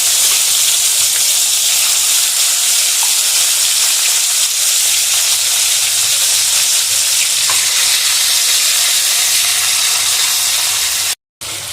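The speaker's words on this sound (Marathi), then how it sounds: "एक 2 ते 3 मिनिट मसाला छान आपण भाजून घेणार आहे." Masala for an egg curry sizzles loudly in a hot pan, a dense, steady frying hiss with faint scraping from stirring. It runs without pause until a brief cut near the end.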